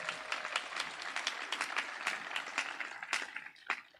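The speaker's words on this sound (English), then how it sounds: "let's get a round of applause for that." An audience at an 8th grade promotion ceremony gives a round of applause. The clapping is moderately loud and fairly sparse, with distinct individual claps heard throughout.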